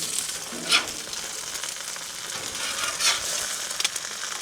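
Eggs frying on a Blackstone griddle just after being flipped for a full Scottish breakfast make a moderate, steady sizzle, with a couple of brief louder spatter bursts and a clink, and no talking.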